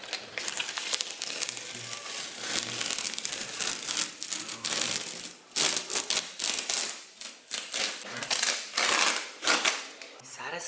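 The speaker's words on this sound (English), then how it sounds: "I'm just peeling off the tape." Painter's tape peeled in long strips off a freshly painted studio wall, a close, continuous crackling rip that keeps pulling in several surges with brief pauses between them.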